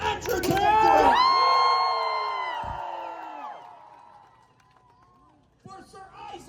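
At a medieval faire jousting tournament, a crowd bursts into loud cheers, whoops and shouting, peaking early then fading to near quiet before voices pick up again at the end.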